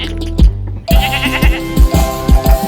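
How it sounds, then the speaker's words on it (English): A goat bleats in short wavering cries over a bouncy rhythmic backing beat, loud and near. "5 goats"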